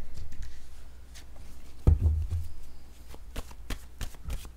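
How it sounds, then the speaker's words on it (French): Word cards being drawn and shuffled by hand, a string of quick papery flicks and riffles with a soft thump near the middle, close and fairly clear with no talking. "Je vais piger une carte mot maintenant."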